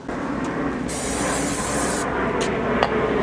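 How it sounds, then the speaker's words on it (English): Cleaner sprayed onto the front brake parts of a 1994 Toyota 4Runner gives a steady close hiss, with a louder sustained burst in the middle and short spritzes after it. "No, we'll spray it down again."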